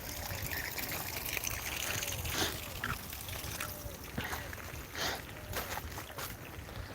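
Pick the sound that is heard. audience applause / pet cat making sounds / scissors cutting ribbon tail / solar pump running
solar pump running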